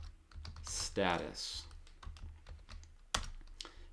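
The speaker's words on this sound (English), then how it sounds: "And then a lot of typing needs to happen here" Fast clicking keystrokes on a computer keyboard during JavaScript coding, a steady, close patter of keys with a short spoken word over the typing.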